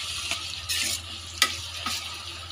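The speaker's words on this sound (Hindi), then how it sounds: "ये हमारे खदकने लगी है टमाटर चटनी।" Tomato chutney simmers in a pan, a soft continuous sizzle and bubbling broken by a few brief scraping stirs, heard close up with no voices.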